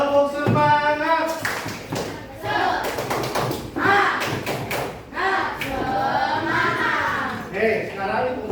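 A classroom of children doing a rhythmic spirit clap in unison, patterned bursts of clapping and thumps mixed with kids' voices chanting and calling out throughout.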